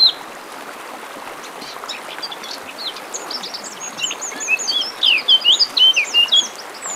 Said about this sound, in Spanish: Las grajillas son los córvidos más comunes en estos parajes